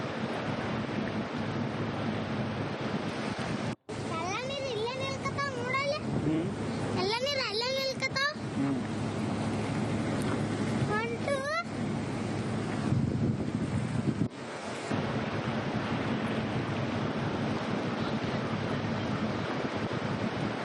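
The swollen Krishna River at Kallol village, Chikkodi taluk, Belagavi district, Karnataka, runs high after heavy rain, a constant broadband rushing roar with strong wind buffeting, while people briefly speak over it in the middle.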